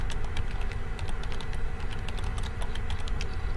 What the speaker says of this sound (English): I'm going to type in instructions and then press OK.